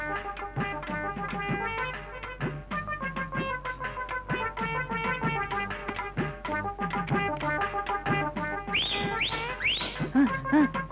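A man whistling a long, lively melodic tune, clear and close, with rapid trilling notes that rise into higher sliding whistles near the end.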